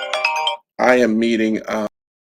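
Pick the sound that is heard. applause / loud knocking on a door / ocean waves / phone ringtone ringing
phone ringtone ringing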